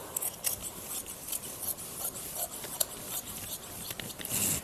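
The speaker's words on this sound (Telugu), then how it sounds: "కరెక్ట్గా నీట్గా కటింగ్ అనేది చేసేస్తానండి" Scissors cutting saree fabric for a lehenga, with close, steady snipping and rustling of cloth throughout, fairly quiet and without speech.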